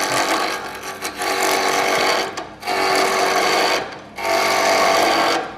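A wood lathe spins while a gouge rides the bevel, giving a loud, steady shearing whir in three long cuts separated by brief pauses.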